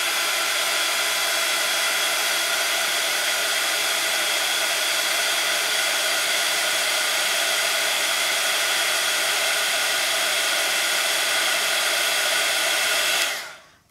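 A hair dryer blows steadily on lime green paint splatters across a small art journal page, a loud, even whoosh that holds for about thirteen seconds before cutting off abruptly, with no talking.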